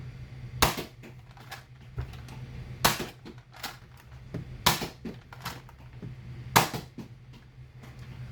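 A modified Nerf Hammershot blaster fires mega darts in four loud, sharp shots spaced about two seconds apart, each with a snappy crack and short rattle, over a steady low hum.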